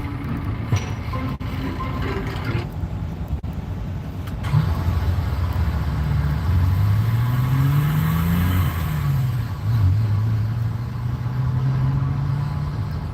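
Old fuel-injected vehicle engine pulling away and driving, a steady loud rumble with rising and falling rev sweeps as it accelerates through gears, no talking.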